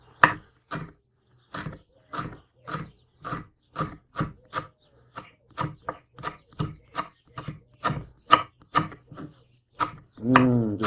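A knife chops fresh wild garlic (Bärlauch) on a cutting board in a steady run of about twenty crisp, close taps that speed up slightly toward the end.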